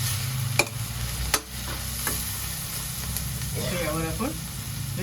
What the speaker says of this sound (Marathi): हे खरं छान परतून घेऊया.